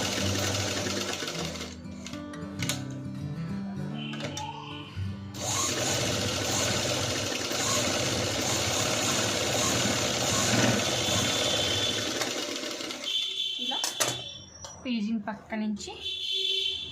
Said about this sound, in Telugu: ఇలా నీట్గా పిన్ అయితే పెట్టేసుకొని సెంటర్ నుంచి పీజింగ్ పక్క నుంచి స్టిచ్ వేసుకోవాలి.